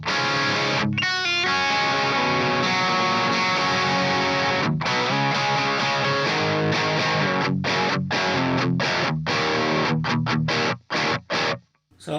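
A distorted electric guitar, an LTD Deluxe MH1000 ET with Bill Steer signature pickups, plays through a hi-gain modded Marshall JCM 800 set to its stock mode. Thick riffs run continuously, closing with choppy staccato stops.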